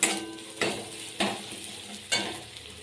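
Spices with salt and turmeric frying in a pan, stirred in four scraping strokes over a continuous sizzle, close up with no voices.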